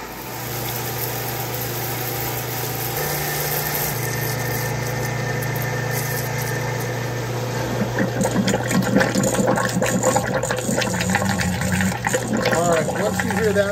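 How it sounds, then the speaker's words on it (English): Pump on an ES24 pressure fryer draws the remaining cooking oil back up once the drain valve shuts, a steady close motor drone that turns to gurgling, sloshing liquid partway through. "The valve will close and the rest of the oil will pump back up into the cooking oil."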